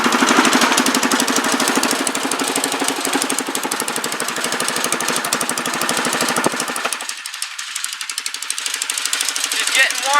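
A Predator 212 small engine freshly fitted with 18 lb valve springs runs at a steady, loud rapid chatter close by, then about two-thirds through the low drone drops away while the clattering continues.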